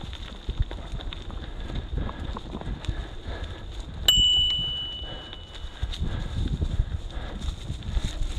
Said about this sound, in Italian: Questo campanello usiamolo.